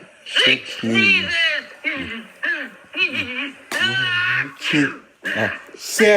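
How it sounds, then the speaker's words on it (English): A voice performs a string of theatrical sneezes for the children's character Barney, several short voiced bursts in an uneven rhythm, close and loud. "Six sneezes."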